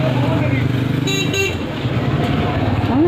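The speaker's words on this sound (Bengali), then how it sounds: "পুলিশের গাড়ি টুন টুন করে" A police car sounds its horn on a busy street: a few short, close toots amid traffic and motorbike noise, with a person talking over it.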